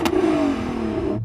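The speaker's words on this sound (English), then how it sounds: "I'm going to get him to rev his car up" 1300 hp Nissan GT-R NISMO engine in a single sustained rev whose pitch slowly falls before cutting off, heard fairly close and on its own.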